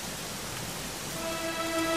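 Steady rain in the video game Dragon Quest XI, a dense even hiss of falling drops close and continuous, with a faint musical tone entering near the end.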